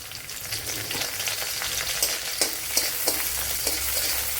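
Green chillies sauté in a hot pan for a Kerala chickpea curry, giving a steady close sizzle broken by repeated sharp scraping strokes of a spoon stirring through the pan.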